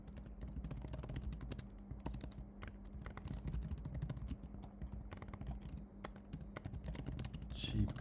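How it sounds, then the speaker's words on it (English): Rapid typing on a computer keyboard, with dense clicking keystrokes that run steadily throughout, close to the microphone and underneath quiet intermittent talk. "So let me type that out too."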